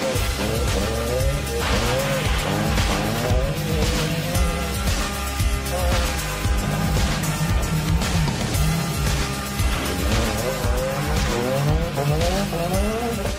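A rally car driven fast up a bumpy gravel road, its engine loud and near throughout, rising and falling through revs and gear changes over a steady rumble of tyres on gravel.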